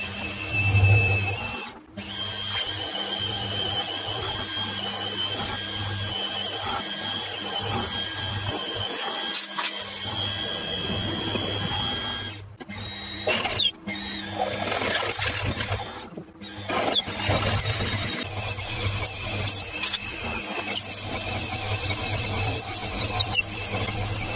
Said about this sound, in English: I'm going to put the hole drilled in here now, so I can bolt it on